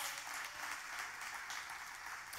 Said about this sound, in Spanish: O dale ese aplauso a Dios.